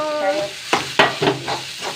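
Grated coconut fries in a pan for a curry, giving a steady sizzle broken by a few sharp scraping stirs, close and fairly loud, with no talking.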